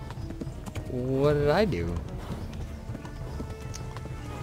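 Horse hooves clatter in a quick clip-clop gallop within the medieval game Kingdom Come: Deliverance, accompanied by a whinny-like rising tone, while someone talks over the scene against steady background noise.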